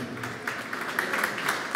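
An audience clapping for a pianist's teacher at an International Roma and Sinti Day event, a steady patter of many hands in a hall, moderately loud and continuous.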